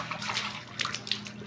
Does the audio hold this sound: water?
yes